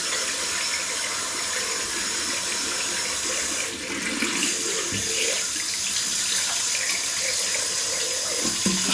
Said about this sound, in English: Let's run some water.